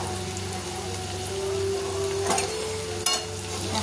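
Gram flour pakoras fry in oil over a low gas flame, giving a continuous close sizzle and bubbling with a couple of brief scraping stirs, and no talking.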